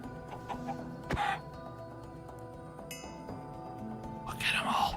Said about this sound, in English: Look at all these chickens around here.